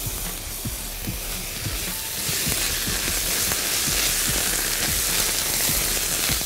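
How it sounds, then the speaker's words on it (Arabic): Frozen spinach sizzles steadily in a hot pan, a dense hissing fry with soft scraping stirs at irregular intervals, close and fairly loud with no talking. "تقلب السبانخ"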